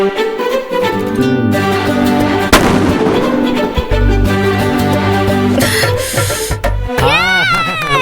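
Firecrackers bursting in a Tamil TV serial scene, a few sharp loud bangs cracking through dense background music with voices around.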